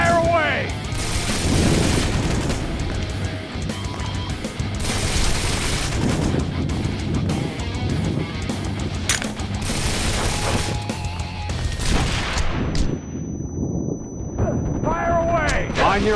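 Gunfire in the action game Wanted: Dead, rapid bursts and heavy booming shots layered with explosions and game music, loud and dense, with a voice shouting briefly, ending in a quieter tail.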